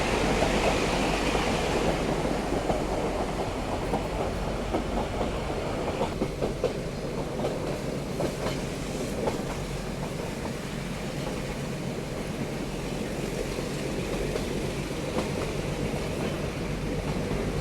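Nilgiri Mountain Railway toy train near Ooty climbing uphill, a steady close rumble of wheels and carriages with rhythmic clickety-clack on the rails running throughout.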